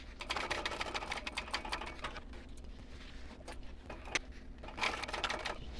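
A sewing machine stitches along the side of a handbag, its needle chattering in a fast steady run with brief pauses and shifts in pace, close and alone.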